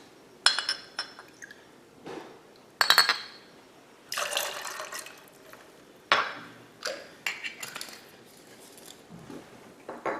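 Cointreau pours into a glass for a margarita in short, separate splashes and trickles, with light clinks of glass between pours, close and clear with no talking.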